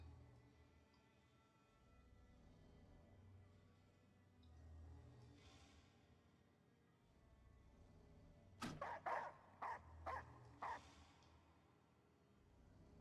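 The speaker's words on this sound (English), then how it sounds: "I hear the dog." A dog in the horror video game Layers of Fear 2 gives a short burst of about five sharp barks in quick succession, moderately loud over a low, droning ambient background.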